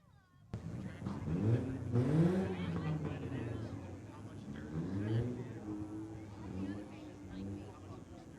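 Dwarf cars in a heat race at the I-37 Speedway make a steady engine roar that rises and falls in the distance beneath an announcer talking over a loudspeaker.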